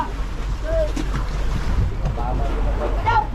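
Wind-buffeted wash of water and waves sloshing around a fishing boat at sea off Surigao, Philippines, steady broadband roar with faint distant voices underneath.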